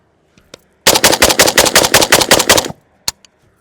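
A loud, close AK pistol fires a rapid burst of about fourteen shots in under two seconds, followed after a short pause by one more sharp shot.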